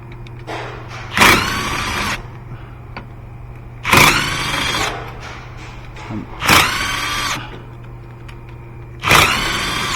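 An electric tool spins off the four 14mm nuts on a 2017 Subaru Impreza rear bearing assembly: four loud, close whirring bursts spaced a few seconds apart, with a quiet steady hum between them and no talking.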